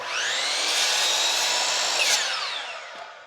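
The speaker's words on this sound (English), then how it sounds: "I'm using my miter saw to get those cut." A miter saw makes one cut through 1x2 wood trim board, a loud whining buzz that spins down quickly at the end.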